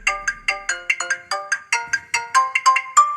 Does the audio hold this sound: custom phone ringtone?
yes